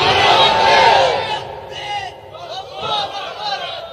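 A large crowd at a Bangla religious gathering shouts the Nara-e-Takbir chant in loud, echoing bursts. The voices swell, drop away and rise again several times.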